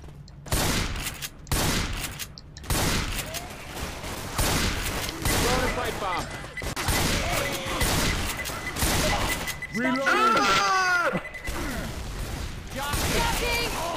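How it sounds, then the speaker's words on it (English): Rapid bursts of gunfire from the video game Left 4 Dead 2 crackle through a match, loud and repeated, mixed with other game effects and chatter from players talking over it. "Why are you shooting me?"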